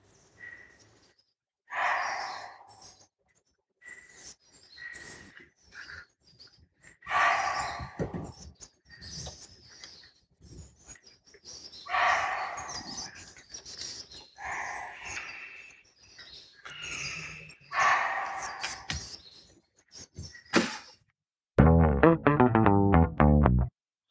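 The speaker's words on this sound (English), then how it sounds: "here is a recording of that barking deer giving alarm calls" Sharp, loud single barks of a barking deer (muntjac) giving alarm calls repeat at irregular intervals across a quiet forest background in northern India, each call short and carrying, with a burst of electronic noise at the end.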